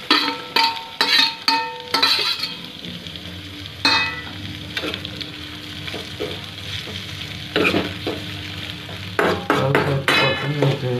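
Carrots and other vegetables for pasta are sautéed and stirred in a pan, with repeated scraping and clattering spatula strokes in bursts over a low steady sizzle, close and fairly loud, and no talking.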